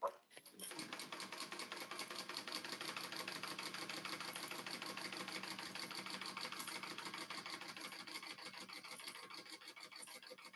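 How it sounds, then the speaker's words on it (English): A domestic sewing machine runs steadily for about ten seconds while top stitching, producing a fast, continuous mechanical whir and rapid needle chatter at close range with no talking. "I'm going to top stitch now."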